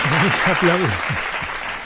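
Audience applause at a cultural talk on photography, continuous clapping from a crowd while someone speaks over it.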